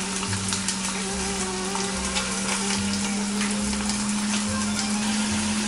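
Rabbit pieces sizzle steadily as they brown in an Instant Pot, a close, constant frying hiss with a low electrical hum underneath and no talk.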